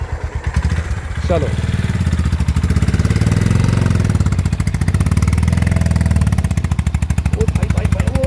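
A Honda CB 350 motorcycle lugs slowly in fifth gear with a steady, deep, thumping engine pulse that stays close and loud throughout, while someone speaks briefly over it.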